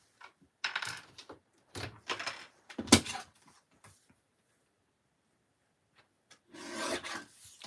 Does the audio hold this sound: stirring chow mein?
no